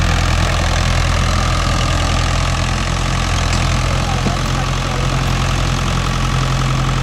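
A Mahindra 575 DI tractor works with a 9-tine cultivator in a field, its diesel engine running loud and steady throughout with a deep, constant throb and no pauses.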